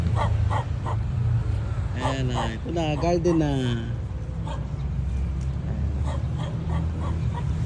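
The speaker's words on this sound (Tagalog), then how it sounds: "Ay, may aso." A dog barks a few times outdoors while a person keeps talking, with a steady low rumble of traffic in the background.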